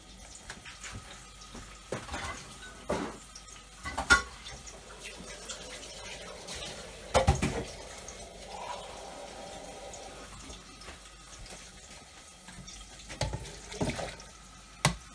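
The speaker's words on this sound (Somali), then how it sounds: "biyaan kusoo shubanayaa" Water runs and splashes from a tap into a vessel while shashuuko breakfast is being cooked, a steady faint stream under scattered kitchen clatter and knocks, with no talking.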